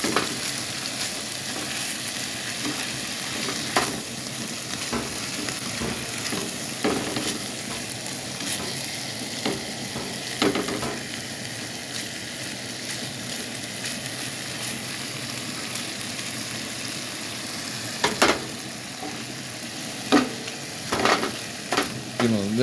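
Steak pieces for a quesadilla fry in a hot pan with a continuous close sizzle, broken by scattered scrapes and clacks of stirring utensil against the pan.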